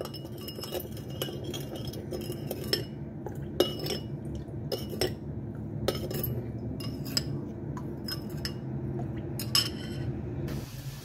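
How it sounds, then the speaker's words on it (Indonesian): Repeated clinks of a utensil against a bowl while a mixture is stirred until it dissolves, sharp taps scattered irregularly over a steady background hiss, close and fairly loud. "Kita aduk sampai semuanya larut"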